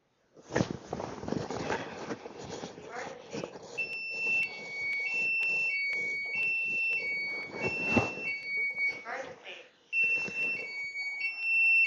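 A fall sensor alarm beeps in repeating two-tone patterns while a person talks and moves about nearby.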